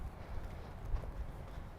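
A horse moving at a trot and a walk during jumping schooling gives soft, muffled hoofbeats in a low, rumbling rhythm, heard close against steady background noise, with no speech.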